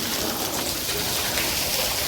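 Steady rain pours down in a village, a dense continuous hiss close by and loud throughout, with faint bird calls mixed in.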